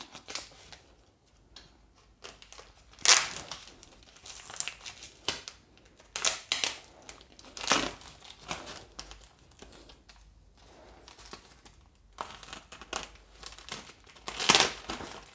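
Knife slicing through glue-backed packing tape on a parcel of ten big-size vintage Raj comic paperbacks, heard as bursts of crinkly tearing and scraping strokes with pauses between, fairly close and moderately loud.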